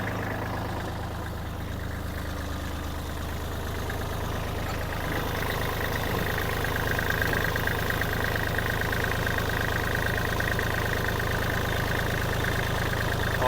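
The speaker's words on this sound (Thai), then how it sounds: "ลองติดเครื่องดู เครื่องติดง่ายนะครับ เสียงเครื่องปกติเลยนะครับ" A Kubota L3408 4WD tractor diesel engine idles steadily, a low even chugging hum that stays constant and moderately close, with a slight rise in clatter partway through and no talking.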